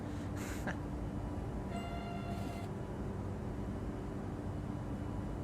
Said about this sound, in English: I'm going to turn down the engine sounds as well slightly a bit.